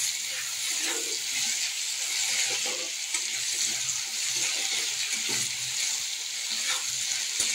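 Chopped ridge gourd goes into onions already frying in a pan, producing a steady close sizzle broken by repeated scraping and stirring sounds and soft knocks, with no talking.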